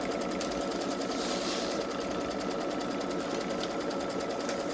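A Babylock Solaris 3 embroidery sewing machine stitches a tack-down line, a steady rapid mechanical whir with fine rhythmic needle ticking, close and continuous throughout with no talking.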